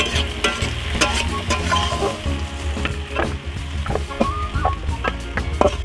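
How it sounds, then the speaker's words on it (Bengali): Figs and potatoes fry in hot oil, giving a steady close sizzle with crackling pops and scraping stirs throughout. "আর এই ডুমুর ফলগুলো তেলে একটু হালকা করে ভেজে নিলে হবে কিন্তু আলুগুলো একটু লাল করে ভাজতে হবে"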